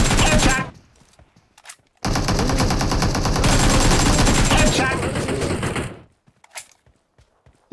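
Video game gunfire crackles in two long, loud automatic bursts, with a single short shot before them and brief quiet gaps and small clicks around them.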